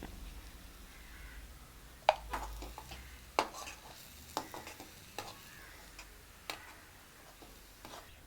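Fenugreek seeds and asafoetida dropped into hot oil for a curry leaf pickle, giving faint sizzling with sharp crackling pops and stirring clicks scattered across a quiet background, no talk.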